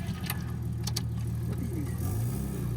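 A Nissan Skyline R34 engine with a manual conversion revs close by, a steady low drone under faint clicks, its pitch lifting near the end.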